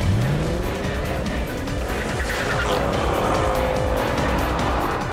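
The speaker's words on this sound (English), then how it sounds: "I went in the Mercedes with Stig at the wheel" A Mercedes S63 AMG in a drag race against a BMW 760Li: a loud, steady engine roar with rising revs and a brief tire squeal near the start, continuous and close, with no talk.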